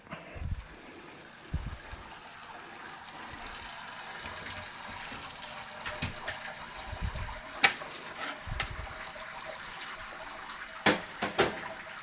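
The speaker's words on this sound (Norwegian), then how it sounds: "Det jeg gjør nå, det jeg lar det renne til det bare drypper." Wort draining from a lifted malt pipe during an all-grain brew of a hoppy amber ale, a soft continuous trickle of liquid into the kettle, punctuated by occasional drips, clinks and bumps of equipment nearby.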